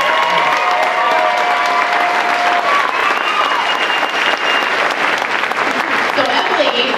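Steady, enthusiastic applause from a crowd fills the whole stretch, with scattered cheers and voices mixed in.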